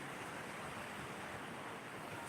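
Faint, steady wash of surf and wind at Sarjekot Mirya Bandh beach in Malvan, a broad hiss of waves heard from a distance with no distinct breaks.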